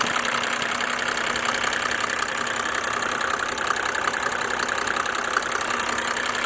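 Mercedes OM603 diesel engine idling during a diesel purge, a loud, steady close-up idle with a continuous fast clicking tick running through it and no speech.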